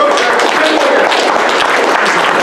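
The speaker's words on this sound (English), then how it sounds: "Big round of applause" Applause from the audience at a Toastmasters meeting in Winter Park, a dense continuous wash of clapping, loud and sustained throughout.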